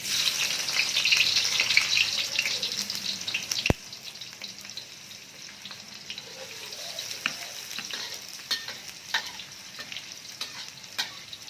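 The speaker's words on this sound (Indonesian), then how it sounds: "Oke teman-teman, minyak sudah panas, kita goreng dulu untuk bawang merahnya." Shallots sizzle in hot oil, a loud hiss at first that drops after a sharp clack to a quieter crackle with scattered pops, close and without talking.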